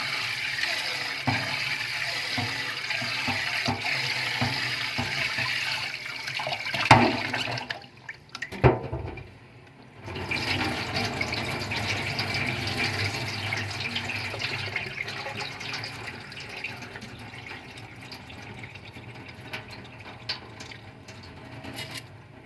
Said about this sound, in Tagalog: Dalawang hugas tayo ng bigas